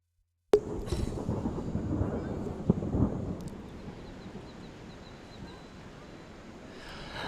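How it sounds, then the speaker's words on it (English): A sudden crack of thunder breaks open into a broad rumble that slowly fades into a low wash of rain and air over an outdoor cricket semi-final. "That's the sound of the clashing thunder."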